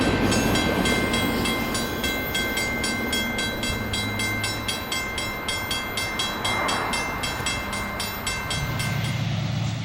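A westbound freight train with GE and EMD locomotives rolls past a siding switch at Gately, wheels clicking in a steady rhythm over the rail joints amid a continuous rumble and a high tonal whine, heard close and alone.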